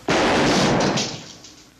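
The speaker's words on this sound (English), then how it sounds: "Please, Mr. Slade, don't shoot." A single loud gunshot in a 1953 western film, one sharp blast that rings out and decays over about a second, with no voices.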